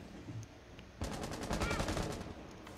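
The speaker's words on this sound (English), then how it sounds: "The shotgun almost never fails, though." In Rainbow Six Siege, a shotgun fires as a sharp burst that opens into a dense run of rapid cracks and rattles lasting nearly two seconds, loud and close after a quiet lead-in, with no talk over it.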